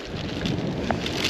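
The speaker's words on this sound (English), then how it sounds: "And the rain has started again." Rain falls outdoors during a cross-country BMX ride, a soft, steady wash of drops with scattered brief patters, moderately close and continuous, with no talking.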